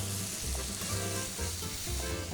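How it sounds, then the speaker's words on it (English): French shallot sizzling in hot smoked bacon fat in a pan for risotto, a steady close crackling fry with faint stirring scrapes underneath. "we're cooking the French shallot in the same pan with the fat."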